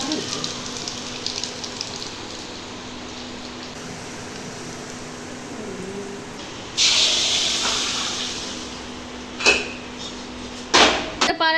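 A sudden loud sizzle bursts out midway as asafoetida, cumin and garlic hit hot oil for spinach tempering, a bright crackling hiss that continues, with a couple of sharp clatters near the end.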